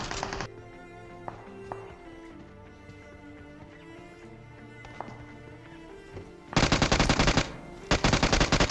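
Loud, close automatic gunfire in PUBG Mobile: a short burst, a quiet stretch with light taps and game sounds, then two long rapid bursts near the end.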